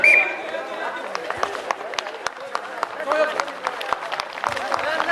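Applause and scattered clapping from a crowd at a futsal match during a winter snow festival in Shigar, with a steady buzz of crowd chatter and sharp individual claps rising out of it throughout.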